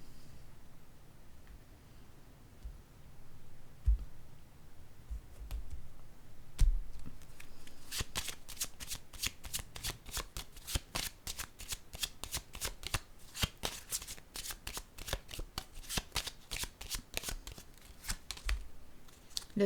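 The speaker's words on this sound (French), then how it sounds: "Je vais déposer une autre carte ici." Tarot-style cards are shuffled and laid out during a card reading: a few soft taps and placements, then a long run of quick, crisp riffling shuffles, close and fairly quiet, with no talking.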